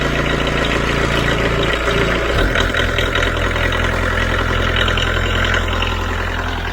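A small machine with a blade and throttle control idles steadily, its engine a continuous low rumbling drone with a brief shift in tone partway through, loud and close with no talking.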